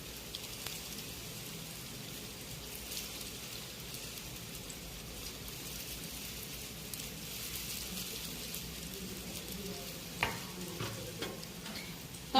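Sev rolls frying in hot oil over a full flame give a steady, continuous sizzle throughout, with a few louder crackles near the end and no voices.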